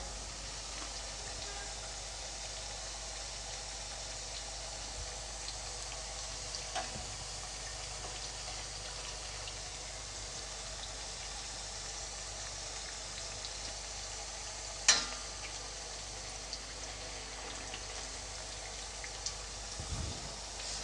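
Crisp nippattu frying in oil over a medium gas flame, a quiet, continuous sizzle like light rain that stays even throughout, with a few isolated soft clicks and taps.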